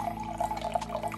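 Hot water spilling and splashing while amla juice is being bottled, a close, steady wet trickle with small drips lasting about a second, with no voices.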